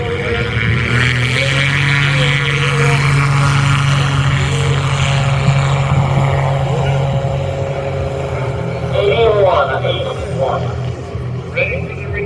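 A Zenith Super STOL 701 light aircraft lands in a short-landing contest at Oshkosh, its propeller engine droning steadily at moderate distance beneath continuous commentator talk, with a brief rise in engine noise near the end.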